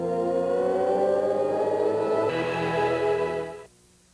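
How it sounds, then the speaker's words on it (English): OS/2 Warp's welcome startup sound plays as a sustained, swelling synthesized chord that shifts partway through and then cuts off abruptly, loud and steady with no voices. "We have a sound card and hear the Warp welcome sound."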